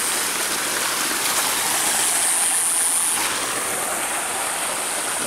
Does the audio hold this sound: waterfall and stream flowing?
yes